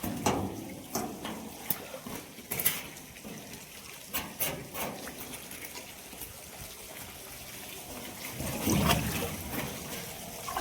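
Floodwater pours steadily into a village courtyard after about ten inches of heavy rain, a continuous rushing, splashing flow with small gurgles and a louder surge toward the end.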